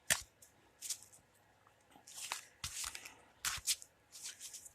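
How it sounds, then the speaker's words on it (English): Playing cards are shuffled quietly in a few quick riffles and flicks, crisp papery bursts close by with short pauses between. "I'm just going to give it a quick shuffle real quick"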